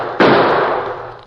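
A single loud gunshot in a 1940s Western radio drama, sharp onset followed by a long ringing decay, standing alone without voices.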